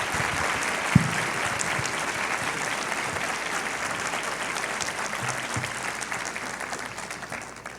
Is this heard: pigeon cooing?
no